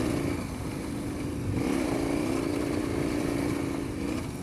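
A KTM 1090 Adventure R motorcycle is ridden, its engine droning steadily and close with a slight rise in revs partway through, mixed with wind rush.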